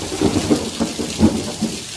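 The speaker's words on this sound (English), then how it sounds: "Storm." A thunderstorm roars with rolling, rumbling thunder and steady heavy rain, loud and continuous with repeated low surges, and no one speaking.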